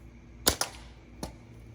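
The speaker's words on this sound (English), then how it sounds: "now I'm just gonna fire around at this can I've been shooting" A slingshot shot strikes a water-filled can, giving a sharp, sudden snap quickly followed by a second crack, then a third brief impact a moment later. All three are crisp and close against a quiet outdoor background.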